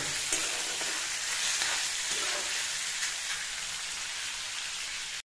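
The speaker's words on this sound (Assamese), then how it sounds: "এতিয়া মাংসখিনি দি দিম। এতিয়া এইখিনি অলপ ভালদৰে ফ্ৰাই কৰি ল'ম।" Pork pieces fry in a pan with a strong, even hiss of sizzling fat like steady rain, close and continuous, with faint stirring underneath until it cuts off abruptly.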